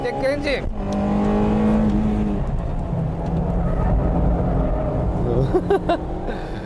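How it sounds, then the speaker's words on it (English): A Honda Integra Type R's VTEC engine howls steadily through a track corner, a loud, sustained rising and holding tone, with a voice talking over it. "Wow, what a sharp corner entry. I love this VTEC."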